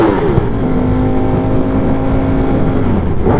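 A V4 naked motorcycle engine hums close by at a steady pitch, with its harmonics holding level and then shifting near the end as the revs change.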